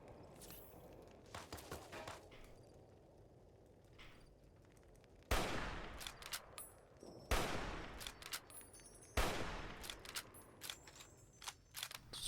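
Gunfire in the game Fallout: New Vegas, with sharp single shots and rapid clusters of cracks scattered across the passage, a few louder blasts standing out against quieter stretches.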